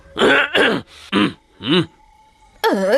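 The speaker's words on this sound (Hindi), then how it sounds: "खांसी है तो दवा खाओ।" A person coughs and clears their throat several times in short, separate bursts, loud and close, followed by a brief vocal groan.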